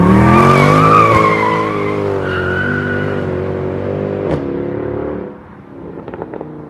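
A deep, steady Mercedes C63 S AMG engine rumble with rising harmonics fills the car cabin, loud and continuous, then eases off near the end.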